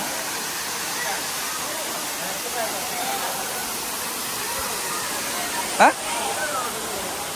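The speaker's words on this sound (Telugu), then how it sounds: "ఇదే వాటర్ ఫాల్ చూడొచ్చు. వాటర్ అయితే మంచి ఫ్లోలో ఉన్నాయి." Water rushing down the Kapila Theertham waterfall at Tirupati, a dense continuous roar filling the scene at steady volume, with a brief louder splash midway.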